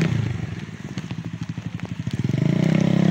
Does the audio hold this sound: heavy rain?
yes